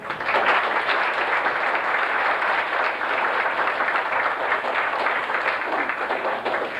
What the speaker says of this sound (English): I'd like you to give LaDonna a round of applause.